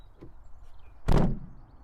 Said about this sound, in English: Proper back to basics, opening back door.